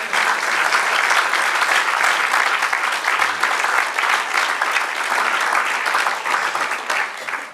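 A church congregation breaks into sustained, dense applause, many hands clapping together at a fairly close distance, steady throughout with no talking.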